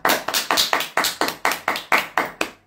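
About ten sharp, evenly spaced claps in a steady rhythm, close and fairly loud, from a small audience, with no talking over them.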